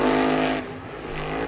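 Monster truck engine roaring at a Monster Jam event in San Diego, a loud sustained rev that drops off midway and then swells again, with no talking.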